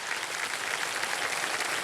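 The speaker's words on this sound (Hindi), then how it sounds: "तालियां बजती रहें" Studio audience on a game show clapping steadily, a dense, even wash of applause filling the whole moment with no voices over it.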